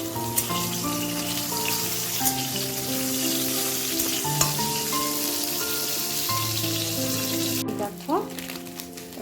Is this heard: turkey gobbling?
no